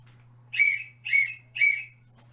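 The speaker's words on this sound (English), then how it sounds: "if you hear me whistling twice, while raising the blue flag" Three short, shrill whistle blasts, evenly spaced about half a second apart, over a steady low hum.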